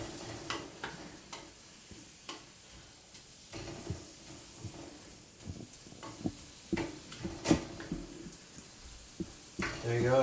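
Brussels sprouts sautéing in a pan are stirred in short scraping bursts over a soft steady sizzle, with faint clicks and knocks scattered throughout and louder stirring near the end.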